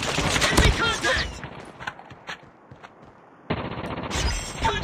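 Automatic sentry gun firing on enemies in the Call of Duty Mobile shooter, dense rattling bursts loud at the start and again at the end, with a quieter stretch of scattered shots between.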